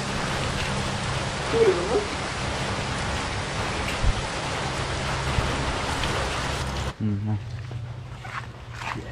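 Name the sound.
rain falling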